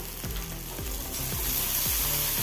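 Tomato, green chili and curry leaves frying in a pan for jackfruit seed thoran, with a loud continuous sizzle and repeated rhythmic scraping strokes of the spatula, about five stirs, no talking.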